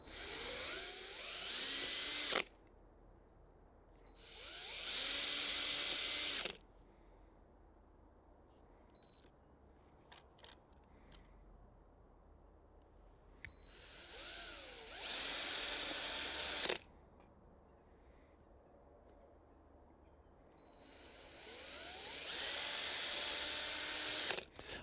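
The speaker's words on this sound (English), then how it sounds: "So all I'm going to do is drill a little pilot hole for the screws." A power drill bores pilot holes for screws in timber while a fruit cage is built from an old polytunnel frame: four separate loud whining bursts of a few seconds each, with quiet outdoor pauses between them.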